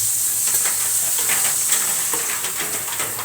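Dipping sauce simmers in a pan, a steady close hiss and bubbling sizzle with faint stirring scrapes throughout, no talking.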